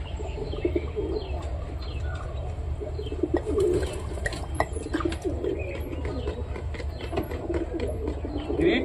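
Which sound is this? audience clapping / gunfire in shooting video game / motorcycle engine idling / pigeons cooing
pigeons cooing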